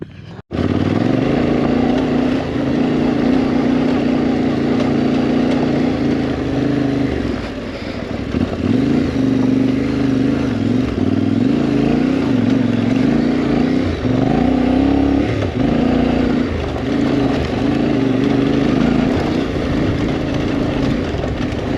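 Steady engine drone of a Yamaha Tenere 700 motorcycle on the move, loud and continuous for the whole stretch, with wind noise and slight shifts in revs.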